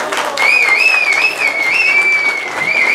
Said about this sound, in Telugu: గట్టిగా చప్పట్లు కొట్టుకోండి.